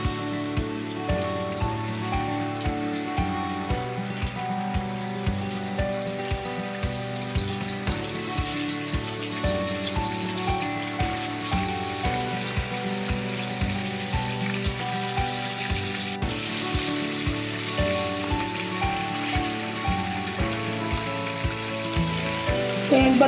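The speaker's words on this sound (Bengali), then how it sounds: "তেল গরম হয়ে গেছে, ম্যারিনেট করা মাংসগুলো একে একে দিয়ে দেব।" Marinated meat fries in hot oil, giving a steady, close crackling sizzle that continues unbroken for over twenty seconds.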